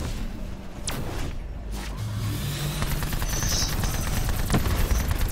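Rapid bursts of gunfire fill a video game boss fight, crackling over a steady engine-like drone, with a few sharp shots standing out amid the continuous background noise.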